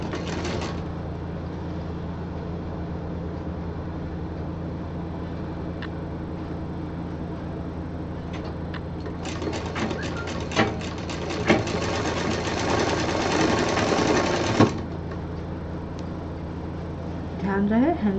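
Sewing machine stitching the seams of a homemade expandable bag, a steady rapid mechanical whir and ticking running for several seconds, close and clear over a constant background hum, with a voice speaking throughout.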